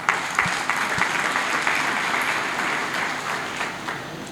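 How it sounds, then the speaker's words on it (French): An audience applauds at an awards ceremony for a science and maths olympiad, a steady sustained crackle of many hands clapping at moderate distance, continuous and without speech. "Je vous demande de les applaudir."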